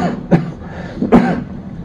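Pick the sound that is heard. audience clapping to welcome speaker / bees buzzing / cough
cough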